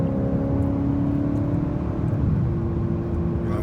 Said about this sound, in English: Now you hear the engine, that the roar is partly due to the sport mode that I've got it in.